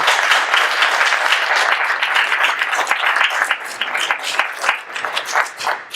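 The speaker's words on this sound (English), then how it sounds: "let's have a big round of applause for us" Audience at an election supervisor district discussion breaks into a round of applause, dense close clapping that holds steady for several seconds then thins slightly near the end, with no talking.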